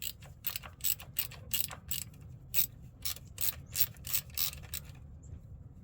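A ratcheting wrench loosens the shifter lever on an M8 Harley-Davidson Road Glide, giving short bursts of rapid, crisp clicks close by, repeated in an uneven rhythm of quick turns and brief pauses.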